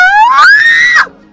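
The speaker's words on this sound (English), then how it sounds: "that scream wasn't even in me when I first read it" A woman lets out a single loud, high-pitched scream of excitement that rises in pitch, holds for about a second and then cuts off, with nothing else around it.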